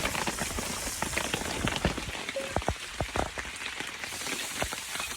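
Rain patters steadily on a wet campsite at Devil's Den State Park, with close, irregular drops tapping on surfaces over a constant soft hiss of falling rain, no one speaking.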